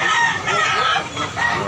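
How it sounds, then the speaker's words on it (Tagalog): A rooster, a young bullstag, clucks and calls up close in a short, loud burst of throaty bird sounds with no talk over it. "Beautiful rooster."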